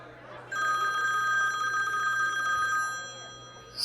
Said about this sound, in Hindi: सीमा का फोन आ रहा है।